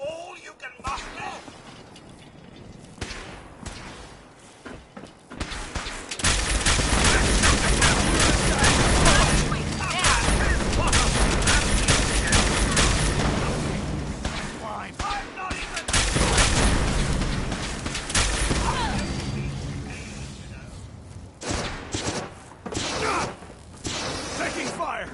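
Heavy gunfire and explosive blasts fill a firefight in Fallout 4, with sustained loud bursts broken by quieter gaps and shouted voices over the din.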